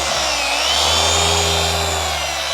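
A dual action polisher hums at a steady high pitch while buffing aviation aluminum with a yellow pad, running continuously, loud and close, without any talking.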